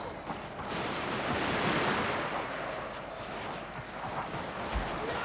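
A Fall of the Samurai battle in Shogun 2 rumbles with distant artillery and massed rifle fire, a steady roar of overlapping shots and booms with no pauses and no clear single report.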